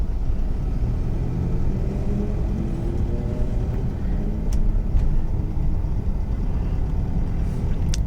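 A Toyota Fortuner on a test drive after suspension repairs, running on old tyres: a steady low engine and road rumble from inside the vehicle, with a few faint clicks and knocks.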